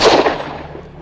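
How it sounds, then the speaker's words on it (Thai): A single sharp, loud gunshot cracks at the start, then a reverberant tail fades away over about a second. "วาดปืนขึ้นพร้อมกับลั่นไกสวนออกไปทันที"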